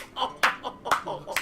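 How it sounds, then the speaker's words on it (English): Someone claps like a seal, four quick sharp claps in an uneven rhythm, close and fairly faint, with no talk. "Got him clapping like a seal, though"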